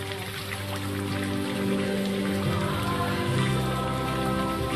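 Steady, dense rainfall hisses continuously at close range, with sustained tonal music running underneath.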